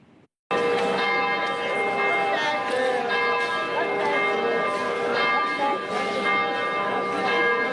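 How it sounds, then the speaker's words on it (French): Cathedral church bells ring continuously and loudly for the Assumption on 15 August, their tones overlapping and swinging after a moment of quiet at the start. "les cloches de la cathédrale ont encore résonné"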